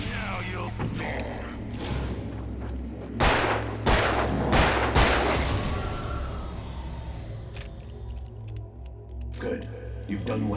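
Gunfire in the horror action game Alan Wake, a few loud, sharp bursts in the middle of the passage over a dense, droning backdrop of game music and ambience, with a voice speaking now and then.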